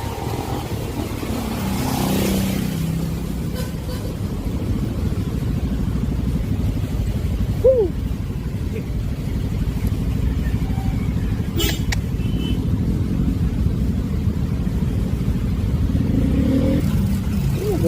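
Steady road traffic in Marilao, Bulacan, with cars and motorcycles passing in heavy congestion; a continuous close engine rumble and road noise run throughout, with occasional louder passes and a brief horn-like tone.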